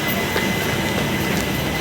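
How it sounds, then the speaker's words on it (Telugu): A passenger train at a railway station, rolling along with a steady rumble and faint wheel squeals, moderately loud and continuous without talk. "ట్రైన్ చూస్తే ఆల్రెడీ స్టేషన్లో రెడీగానే ఉంది"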